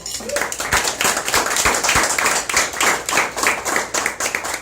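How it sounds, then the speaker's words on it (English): Audience applause at a stand-up comedy show, dense steady clapping from a crowd filling the whole stretch, fairly loud and close, with no talk over it. "I give her a round of applause"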